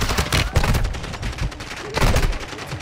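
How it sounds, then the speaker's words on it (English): Video game gunfire with a sniper shooting: rapid bursts of loud, close shots in quick clusters, then a short lull before a fresh volley, with a voice faintly underneath. "There's one sniping there."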